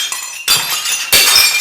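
Two glasses clink together in a toast, two bright sharp chinks a fraction of a second apart, close and clear with ringing decay, no talking.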